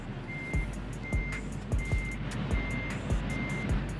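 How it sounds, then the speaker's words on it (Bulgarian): A truck's reversing alarm in Euro Truck Simulator 2 beeps steadily about six times at an even pace over a low idling diesel engine hum. "Остана само да направим един лек заход назад и сме готови."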